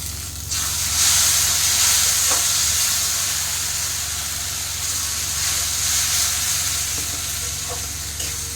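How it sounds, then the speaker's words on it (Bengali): Tomato paste and green chillies sizzle loudly in a pan for egg curry, a broad steady hiss starting after a brief quiet moment, with a couple of faint utensil taps. "এইভাবে আবার টমেটো দিয়েও 10 মিনিট মতো কষতে হবে"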